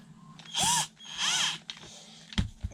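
A power screwdriver drives screws in two short whining bursts with a rising then falling pitch, followed by a few clicks and knocks, close and without speech.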